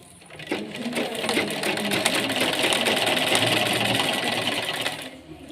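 A sewing machine runs steadily, stitching a seam in fabric with a fast, even mechanical whir that builds after a brief start and winds down near the end, close and loud with no talk over it.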